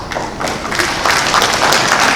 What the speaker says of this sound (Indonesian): Terima kasih tepuk tangannya, Pak.